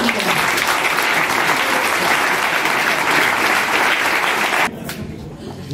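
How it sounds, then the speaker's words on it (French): At a partners' evening of an equestrian festival, a crowd claps loudly and continuously in a dense roar that cuts off abruptly near the end, leaving a quieter room. "Je vais vous demander, mesdames et messieurs, de les applaudir très fort"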